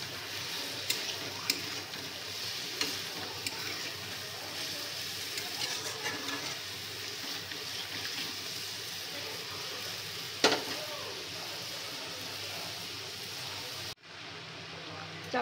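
Potatoes frying in a pan, a continuous soft hiss with occasional light taps and stirring clinks, close and fairly quiet, ending in a brief drop to near silence.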